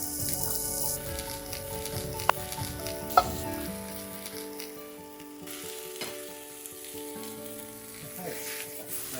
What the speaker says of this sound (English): So there's the mushrooms in the pan.